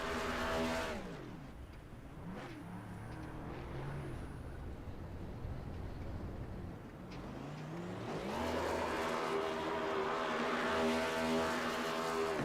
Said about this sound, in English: He is burning it down here in Kansas.